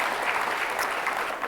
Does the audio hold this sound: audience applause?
yes